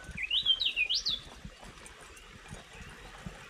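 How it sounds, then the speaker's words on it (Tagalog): Birds chirp in a mountain forest in Aguinaldo, Ifugao, with a quick run of high tweets up front before quieter calls fade into soft background rustle. "Narinig natin mga huni lang ng ibon."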